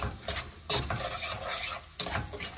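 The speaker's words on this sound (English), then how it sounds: "Then we're just gonna mix this around." Apple pie egg roll filling being stirred in a pan, with scraping utensil strokes over a soft sizzle, close and steady, and a couple of sharper clinks against the pan.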